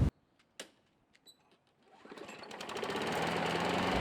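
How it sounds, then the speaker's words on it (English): A few sharp pull-cord tugs, then a small lawnmower engine sputters to life and settles into a steady, loud running drone. "Pretty easy to start my lawnmower."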